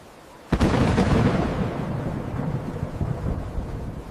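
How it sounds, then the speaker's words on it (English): A sudden loud thunderclap from a fierce storm cracks sharply, then rolls on in a long, broad rumble that slowly fades over several seconds. "Then came the storm, fierce and wild."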